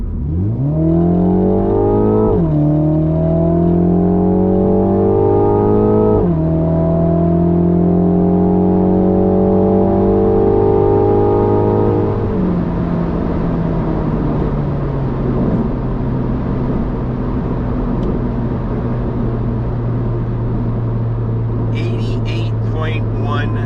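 A Mini Cooper F56 with a Scorpion performance exhaust, in sport mode, revs up in several rising sweeps, loud and close, then settles into a lower steady idle rumble.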